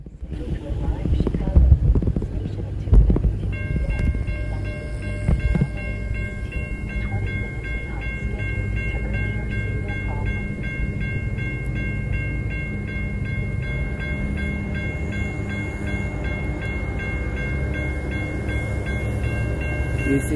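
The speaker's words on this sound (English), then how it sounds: "This is the Metro train going to Fox Lake." A Chicago Metra commuter train bound for Fox Lake pulls into a Glen station, its rumble loud and steady throughout, with a long sustained horn or brake tone sounding over the rolling wheels.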